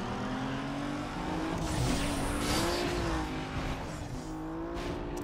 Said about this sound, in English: short shifting into fourth gear immediately because I don't want to over rev the engine